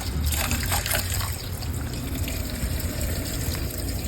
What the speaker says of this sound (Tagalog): Inulit-ulit ko lang yung paghuhugas ng bigas dito.